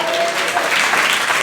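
A prayer-meeting congregation gives a brief burst of continuous clapping to praise God, a thick, even wash of many hands, close and loud, lasting barely a second and a half.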